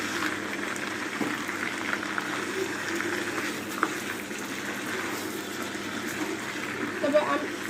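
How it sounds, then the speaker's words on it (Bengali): Two kilograms of mutton with a little fat fry in oil for a Old Dhaka style mutton biryani, giving a steady, continuous bubbling sizzle throughout, with faint background talk mixed in. "মাটনটাকে একটু ভালো করে তেলের ভিতরে ভেজে নেব।"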